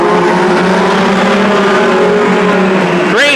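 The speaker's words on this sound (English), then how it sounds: "Here come the mini stocks." Mini stock race cars at the start of the main event at Petaluma Speedway, engines droning loud and close in a steady pack with rising pitch, and a car revving past right at the end.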